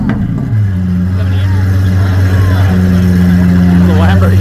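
A Lamborghini Aventador SVJ with a 6.5-liter naturally aspirated V12, parked close by at a motorsport festival, holds a deep steady idle with a rising rev near the end, loud and continuous, with voices in the background.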